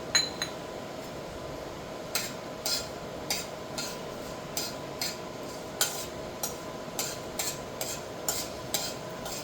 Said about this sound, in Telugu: ఆయిల్ వేడెక్కాక మెంతులు వేసుకోవాలి.